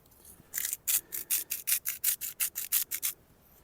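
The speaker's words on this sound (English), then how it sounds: "Let's get that and rub those edges in, get a nice coating on it." Hands rubbing olive oil, pepper and salt into a bone-in rib eye steak at a coastal camp before it goes on a mini barbecue, heard as about fourteen rhythmic, close, brisk rubbing strokes with no talk.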